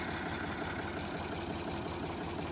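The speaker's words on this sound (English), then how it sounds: "I'll roll the tractor forward just a little bit" A Ford 3000 tractor engine idles steadily and close by, a continuous low rumble with even vibration and no pauses or speech.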